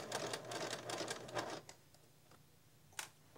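A sewing machine stitching quilt binding, a close, rapid mechanical whir of the needle for about a second and a half, then stopping to quiet with a few light clicks.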